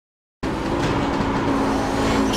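Audi 90 GTO race car in iRacing at Sonoma, its engine droning loud and steady at close range after a sudden start, with a constant hum and no talking.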